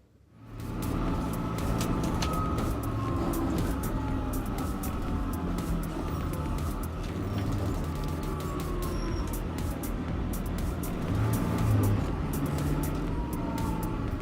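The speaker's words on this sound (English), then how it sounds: "I just got off the bus that you just saw pass by me." Busy London street with a city bus passing nearby: continuous engine rumble and traffic roar, sharp clicks and clatter, and a louder swell toward the end as the vehicle goes by.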